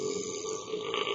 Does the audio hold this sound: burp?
yes